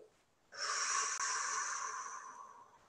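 A long, steady exhale during a guided children's meditation, a soft breathy rush lasting about two seconds that slowly fades, heard close and alone.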